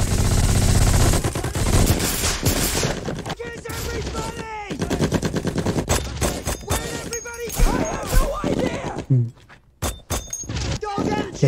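Machine gun fire and rifle shots crackle through a World War II battle scene from a war series, with rapid bursts and sharp single cracks throughout, mixed with shouted voices and chaotic noise.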